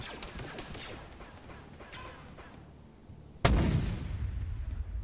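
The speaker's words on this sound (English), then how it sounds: "now to do the cinematic mortar method" Mortar fire in Arma 3: one sharp, loud blast cuts through a noisy battlefield wash and is followed by a heavy rumbling tail, with scattered distant shots and crackle before it.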